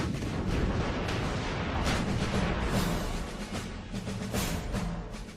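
A massive artillery barrage from British and American guns pounds Iraqi positions during the Desert Storm ground war, a dense continuous roar of rumbling booms and blasts with no pause.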